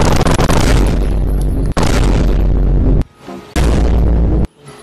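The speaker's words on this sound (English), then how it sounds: "This gun is amazing." Loud, heavy gunshot booms from a weapon in the virtual reality game Bonelab, several blasts in close succession with brief silent gaps between them and no voices.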